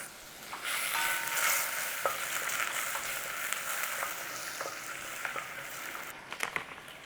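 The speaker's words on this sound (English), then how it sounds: "chunk of butter in the pan, get your flame on, in there your garlic, let's have that cooked off in there" Garlic cooks in melted butter in a pan over a flame, making a soft continuous sizzle dotted with light clicks from stirring, with no one speaking.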